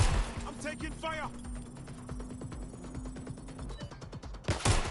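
Gunfire in the video game Watch Dogs Legion, a scattered run of sharp shots over a steady game soundscape, with a louder burst of shots near the end.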